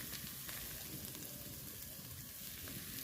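Ground spice paste for a fish curry fries in oil in a pan until the oil separates. A faint, steady sizzle goes on without a break and no one speaks.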